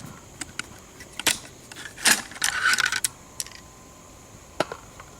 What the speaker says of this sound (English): push in your recoil spring, and then release it. The bolt comes back.